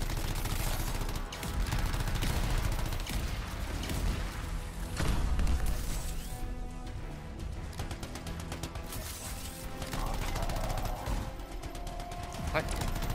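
Sustained video game gunfire from a weapon in Anthem, rapid bursts and volleys under layered action effects and music, steady and loud throughout with brief breaks where firing stops.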